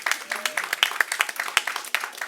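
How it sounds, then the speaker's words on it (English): Press conference audience clapping, a scattered round of individual claps with sharp irregular hits and no full roar, fairly close and moderately loud. "Give them a round of applause."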